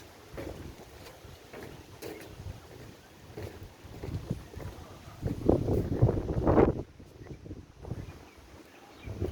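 An empty sand carrier ship on a river, with a low engine rumble and water wash swelling mid-way, mixed with steady wind buffeting the microphone at moderate loudness and no talk.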